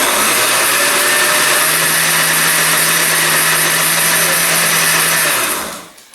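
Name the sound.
blender running on low mixing pesto sauce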